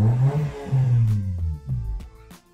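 A car engine revs up and drops back after its air-conditioning condenser was replaced, rising and falling through a few quick, loud pulls at close range with some mechanical clatter.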